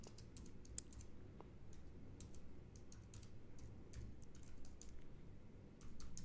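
Soft, quick keystrokes on a MacBook keyboard tap out a username in a steady patter of light clicks, faint and close in a quiet room, with a few brief pauses.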